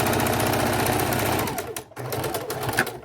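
A sewing machine stitches an X across fabric for a homemade jar opener, with a fast steady mechanical whir that stops briefly and then starts again, close up and loud.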